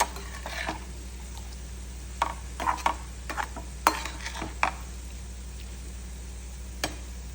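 Sliced bitter gourd being stirred and sautéed in a pan with a little water, sparse clinks and scrapes of a spoon against the pan over a low steady background hum.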